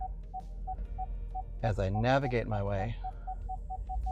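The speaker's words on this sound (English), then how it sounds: "Apologies for the beeping" A car gives regular electronic beeps, likely a parking sensor, while it manoeuvres out of a street parking spot. The short evenly spaced tones pause briefly while the driver speaks, then resume at a quicker pace.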